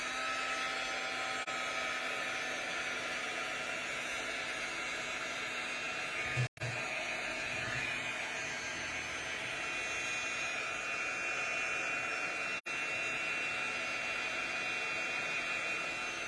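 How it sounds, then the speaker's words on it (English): A heat gun blows hot air in a steady, loud, close whoosh that runs for the whole stretch, broken only by two brief dropouts. "Bring out our heat gun."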